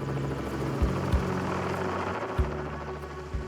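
A helicopter airlifting an animal from wetland in Australia makes a steady rotor drone and buzz with periodic low thumps, moderately loud and continuous, with no voices.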